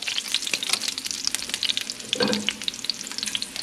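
Well-done bacon frying in a pan at breakfast, a loud close crackle of dense spitting pops over continuous sizzle, with a brief scrape of a utensil partway through.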